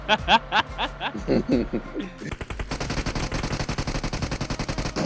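Rapid automatic gunfire from PUBG Mobile, a mix of single shots and sustained bursts over a chaotic battle-royale firefight, with laughter and shouting voices over the opening shots before the fire turns into a steady, loud rattling stream.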